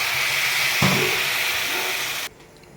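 Water poured into a hot pan of frying ginger paste gives a loud, steady hiss of steam and sizzle, with a brief bubbling burst near the start, before cutting off abruptly to near quiet.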